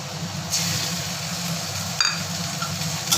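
Cumin paste goes into a hot pan for aloo dum, giving a steady close sizzle with a brief louder crackle burst near the middle, no voices over it.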